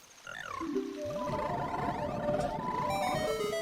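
Frogs croak in a Zelda-style video game, a burst of bright, bending synthetic calls that warble and overlap, rising suddenly and carrying on loudly to the end without any speech.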